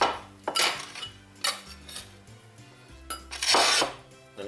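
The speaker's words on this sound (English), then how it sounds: "So chop up your tomatoes" A kitchen knife chops tomatoes into small bits for Baja-style fish tacos, giving a few scattered scraping knocks against a board up close, with no talking.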